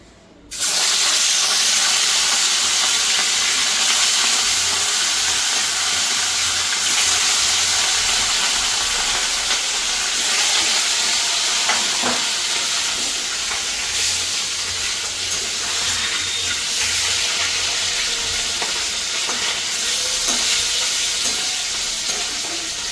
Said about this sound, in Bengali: এবার কাতলা মাছটাকে ভালো করে ভেজে নেব।